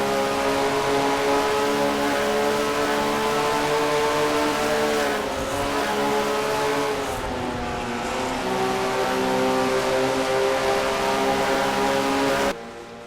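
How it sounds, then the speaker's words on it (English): In-car view of a stock race car in a racing video game, its engine droning loud and steady with a dense harmonic whine that dips slightly and rises again before cutting off near the end. "Inside Jessica's car"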